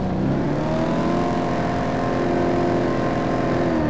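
Maxed blue Porsche 911 racing the north loop in the Top Drives game, its engine droning steadily and loudly throughout with a continuous revving, sustained tone and no talk.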